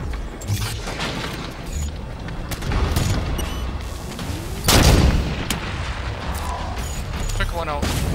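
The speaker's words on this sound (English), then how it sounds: "I'm gonna see if I can use my SMG for anything." Gunfire in the game Halo 5 Guardians, an SMG among several sharp shots and booming blasts of a firefight, with a loud burst near the middle, mechanical clatter, and talk over the action.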